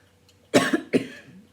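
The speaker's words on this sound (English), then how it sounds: "Sorry, it's not a dry cough." Two harsh coughs in quick succession from a person speaking to a class about Macbeth, close and fairly loud, preceded by near silence.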